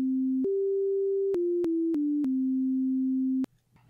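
A pure sine tone from the Game Boy sound chip's 4-bit wave channel steps through several sustained pitches in a simple melody, loud and clean, with tiny clicks at each note change before cutting off near the end.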